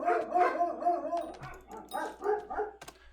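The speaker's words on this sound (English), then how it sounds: "I love my dogs." Dogs barking and whimpering in short, uneven bursts, a few yelps and whines close by over a quiet background.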